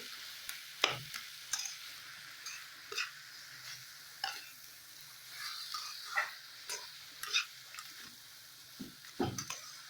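Fish head and cabbage stirred in a pan after a pinch of sugar, a spatula scraping in irregular strokes over a steady soft sizzle, close and moderately quiet.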